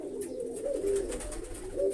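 Pigeons kept in a coop coo softly in short, low murmuring phrases over a steady background, fairly close, with no talking.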